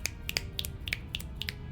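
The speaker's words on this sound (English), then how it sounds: "I snapped for you. I didn't clap, but I snapped." Several crisp finger snaps in an uneven run, close and fairly light, alone without talk.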